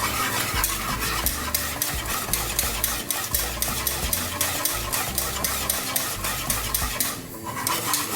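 Spoon stirring cheddar cheese sauce for macaroni cheese in a pot, repeated rhythmic scraping strokes, close and steady, with a faint sizzle beneath.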